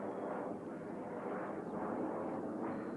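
De Havilland Vampire twin-boom jet flying at an air show in Australia, a loud broad roar swelling and fading in waves as the aircraft passes.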